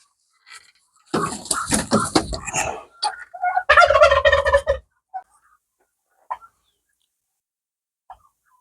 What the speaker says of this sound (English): we don't know the name of this breed of turkeys